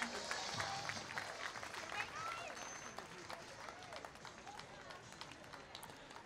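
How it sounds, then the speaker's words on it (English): Faint, distant crowd applause along a Fourth of July parade route in Old Town Temecula for a magic act entrant, steady scattered clapping with crowd murmur under a loudspeaker voice. "Give them another round of applause"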